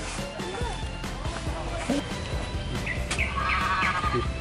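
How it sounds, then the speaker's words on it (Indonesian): Goats bleat a few times at a zoo enclosure amid a busy crowd, with people talking and moving nearby, and the animal calls coming through faintly beneath the chatter. "Agak metal ya kambing-kambing di sini"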